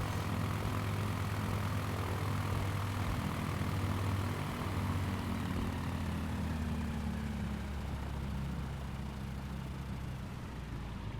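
Single-propeller Caravan aircraft engine in Microsoft Flight Simulator, flying around the Orkney islands: a loud, steady droning hum with a slight pitch shift as it powers through takeoff, alone without talk.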